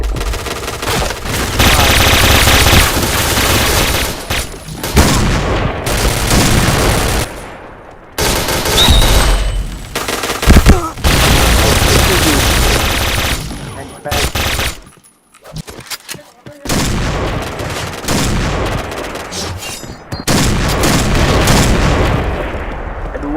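Gunfire in the video game Point Blank, loud rapid automatic bursts and single shots with brief booms, broken by short gaps of quiet and heard under occasional game sounds and voice chatter.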